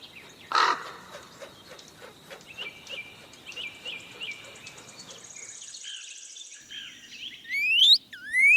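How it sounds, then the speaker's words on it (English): A crow caws in a natural setting, a sharp harsh call near the start followed by a series of repeated rhythmic chirping calls and a higher whistling bird note at the end, with no talk. "crow"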